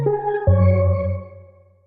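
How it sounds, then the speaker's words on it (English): A single Arturia ambient keys synthesizer chord with a soft, sustained pad-like tone swells in, shifts once, then slowly fades out, with no voices. "Ambient keys."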